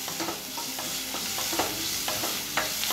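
Chopped onions sizzle and fry in a pan for a Maharashtrian whole masoor bhaji, with a steady hiss broken by repeated scraping stirs of a spatula, close and continuous with no voices.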